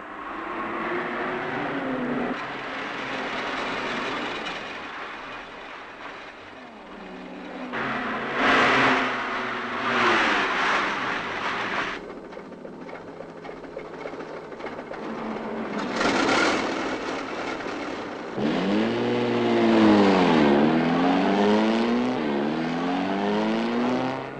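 An early automobile driving in archive film, its engine revving in loud sweeps that rise and fall in pitch, with bursts of hissy noise between the passes and no voices.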